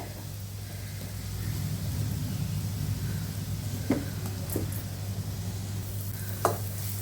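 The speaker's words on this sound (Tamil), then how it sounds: "அடுப்பை நல்லா சிம்மில் வச்சுட்டு மசாலாவை நம்ம வதக்கணும்" Rasam masala powder sautés in sesame oil over a low flame, a gentle steady sizzle beneath a low hum, with a few brief clinks of a spoon against the pan.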